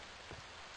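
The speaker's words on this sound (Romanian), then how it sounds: "Plouă, plouă, haide." Rain in the survival game Stranded II, a faint, steady hiss of falling rain with soft patter throughout the short moment, no voices.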